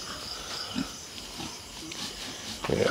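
Big fat pigs in a piggery pen at night give a few low, scattered grunts over a steady background hum, with a louder burst of grunting near the end.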